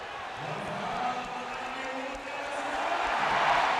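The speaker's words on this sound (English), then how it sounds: "And you can hear the reaction from the crowd as Rodman has just picked up his 3rd." An indoor basketball arena crowd at a Chicago Bulls vs Orlando Magic game murmurs and swells into a rising roar of reaction to a foul, with faint court sounds beneath.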